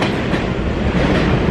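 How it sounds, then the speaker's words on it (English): A New York City subway train roars through the station at night, a loud continuous rumble of wheels and rail noise filling the platform, with no voices over it. "Our train is leaving, but we're gonna catch the next one."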